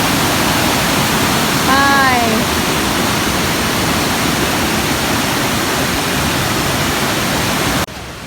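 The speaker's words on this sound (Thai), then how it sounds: "ไหลแรงมาก ดูนะคะ ตรงนี้นี่คือเหมือนน้ำตกเลยค่ะ" Swollen floodwater pours over a drop like a waterfall at a cave stream in a hill area, a loud, dense roar filling the scene up close, with a brief tonal whistle early on before it cuts off near the end.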